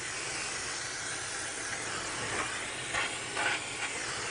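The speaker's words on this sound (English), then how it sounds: "So I'm just going to douche everything down with brake clean." Brake cleaner aerosol sprayed steadily onto the engine parts of a BMW X3 E83 during a water pump replacement, a continuous broad hiss lasting the whole stretch at moderate level, with faint clanks underneath.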